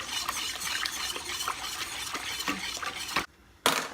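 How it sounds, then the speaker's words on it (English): A spoon stirs apple pie filling sauce in a pot on a stove, making a continuous scraping and sloshing with soft clinks, close up, stopping briefly near the end before resuming. "You want to keep stirring it so that it doesn't stick"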